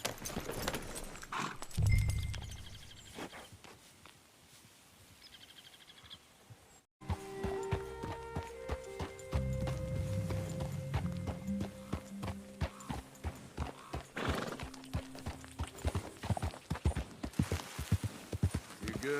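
Horse hooves clip-clop in the video game Red Dead Redemption 2, a steady walking rhythm of close, crisp hoof strikes with a brief snort or whinny, under game ambience and scattered voices.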